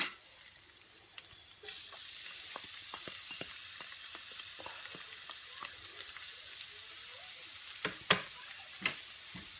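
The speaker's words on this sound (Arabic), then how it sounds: "البصل تاعنا حطيناه راهو يتقلى" Onions fry quietly in a pan for stuffed aubergines, a soft continuous sizzle dotted with small pops and crackles, with a few clearer utensil clicks near the end.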